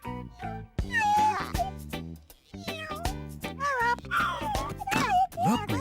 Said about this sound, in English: Hello, little black cat.